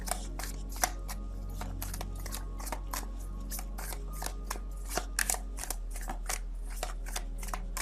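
Tarot cards being shuffled and drawn, giving a steady run of crisp papery flicks and slaps, close and fairly quiet over a low constant hum, with no talking.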